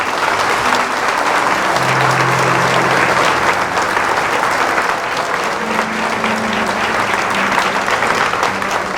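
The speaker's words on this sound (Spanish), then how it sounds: "Fuertes aplausos a Jesús de Nazaret." Loud, sustained applause fills a church service as the congregation claps for Jesus of Nazareth after the Gospel reading, steady and dense from start to finish with faint voices beneath.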